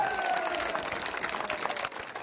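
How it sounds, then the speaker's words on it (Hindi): Crowd clapping at an outdoor election rally, a dense wash of applause moderately loud and continuous, with faint tonal sounds drifting over it and no clear speech. "सब लोग लपट के ताली, जोरदार ताली बजा के अपना स्वागत करा।"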